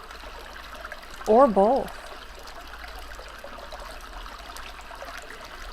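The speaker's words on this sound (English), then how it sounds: "you can begin to concentrate on the sound of a brook, the sound of water running" A gentle babbling brook trickles steadily and quietly throughout, with a calm voice speaking briefly over it near the start.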